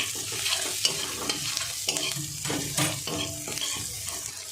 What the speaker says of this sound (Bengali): এবার দিয়ে দেবো এই যে থেতো করে রাখা ছোলাটা, সিদ্ধ করা ছোলাটা একটু কষিয়ে নেব।